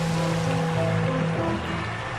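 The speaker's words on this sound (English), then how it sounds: "large ice blocks collapsing into gray lakes like giant rocks thrown into a small pond" Large ice blocks collapse into a gray lake, sending up crashing waves: a dense, continuous roar of churning water and surf, loud and broad, easing slightly toward the end with no voices.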